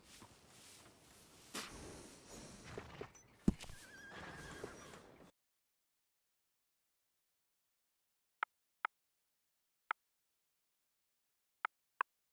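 A horse in the Red Dead Redemption 2 video game whinnies through the first five seconds amid busy game ambience, followed by silence broken by a few sharp, isolated ticks or hoof-like clicks.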